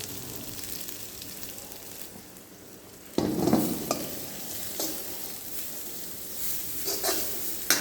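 Shredded cabbage stir-fried in a pan, a quiet hiss that jumps into louder sizzling as the vegetables hit the hot oil, with scraping stirs continuing close and alone.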